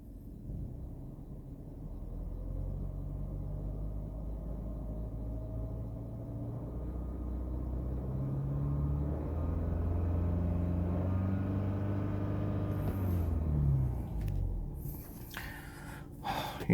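A healthy Mini Rover engine idles steadily, then revs up smoothly to a higher hum and settles, with a few clicks and rustles near the end.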